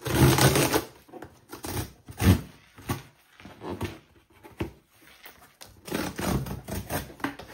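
A parcel of books opened by hand, close bursts of tearing, crinkling packaging and rustling, interrupted by brief pauses, with no talking.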